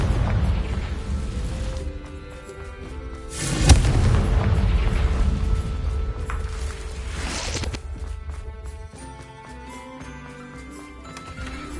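A fiery Confringo spell blast from the wizarding game Hogwarts Legacy lands as a sudden loud boom over a rumbling battle bed, then a long rolling fade under a game music score.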